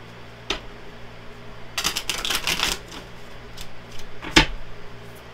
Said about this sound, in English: grab my tarot cards and give them a few good shuffles